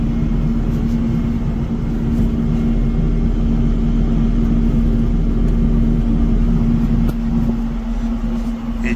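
Steady blower roar with a strong constant hum from the HVAC fan of a 2017 Kubota SVL95-2S compact track loader pushing hot air, running continuously and close.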